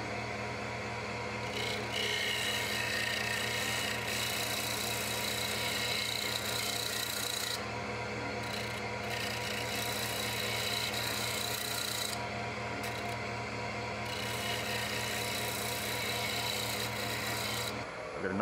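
A gouge makes a shear cut on a spinning piece of wood on a lathe, giving a continuous loud rasping scrape over the steady hum of the machine. There are a few brief breaks as the tool lifts off the wood.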